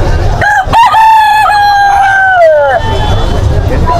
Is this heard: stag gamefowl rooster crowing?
yes